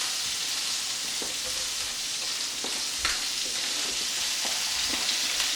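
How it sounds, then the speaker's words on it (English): Meat browning in olive oil in a large gravy pot for Sunday gravy, a steady dense sizzle throughout with occasional soft pops and utensil taps, close and fairly loud. "You can see our meat still browning."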